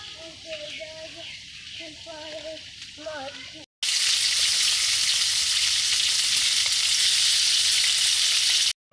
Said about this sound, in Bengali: কড়াইতে তেল দিয়ে দিচ্ছি কালি জিরা দিয়ে দিচ্ছি